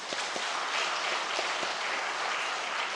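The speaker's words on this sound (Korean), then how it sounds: "하나님께 박수해야 돼, 박수." A church congregation claps together during a sermon, a dense, steady burst of applause at moderate loudness with no speech over it.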